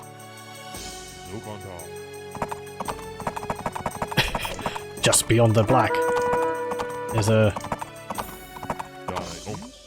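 Horses of heavy horse archers and cataphracts in the Age of Empires video game: steady hoof clip-clop and whinnying over game effects, with a person talking over them.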